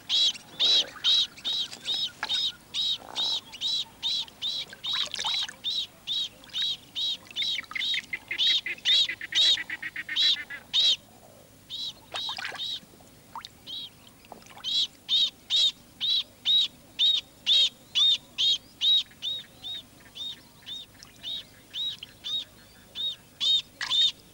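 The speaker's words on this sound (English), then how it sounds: "When the lotus bird glimpses Boloko, the water python, he is ready to defend his nest" A lotus bird in Australian wetland calls in long series of sharp, rapid repeated chirps, loud and close, running almost continuously with a short pause midway.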